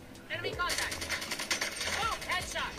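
Rapid gunfire from the mobile shooter Call of Duty Mobile, a string of sharp shots at moderate level under game effects and a speaking voice.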